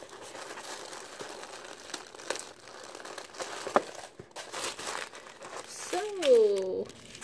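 Chanel beauty box packaging being unwrapped, with crinkly paper rustling and crackling steadily at close range while a voice speaks briefly over it.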